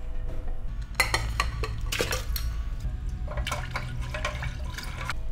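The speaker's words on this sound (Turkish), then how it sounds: "Birinci grup pirincimizi mayşe tankımıza atıyoruz." Rice poured into a beer mash tank during home brewing: close rattling, hissing bursts of grain hitting metal over a steady low hum, in a few uneven pours.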